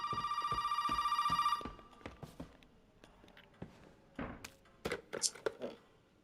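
A telephone rings in a video game with a steady electronic trill lasting about a second and a half, followed by soft thuds and footstep-like taps as a voice talks.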